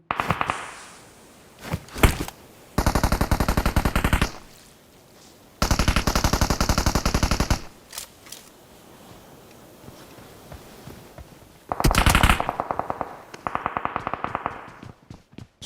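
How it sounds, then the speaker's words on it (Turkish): Automatic weapons in a shooter video game fire in several long bursts of rapid, evenly spaced shots, interspersed with single cracks and quieter gaps, loud and close. "Sağdan soldan sıkıyorlar bana."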